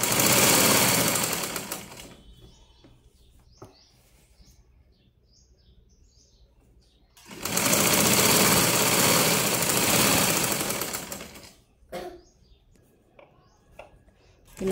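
A sewing machine stitches piping onto a blouse in two loud, steady whirring bursts with a quieter stretch between them, and someone talks over the pauses.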